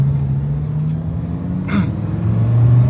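A rear-engined supercar's engine hums in a steady, close low drone amid city traffic in China, with a brief brighter burst partway through.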